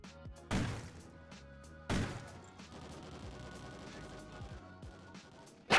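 Gunfire in Call of Duty Ghosts, shots fired off a hill: a few sharp, heavy bursts spaced seconds apart over a steady murmur of game ambience, moderately distant.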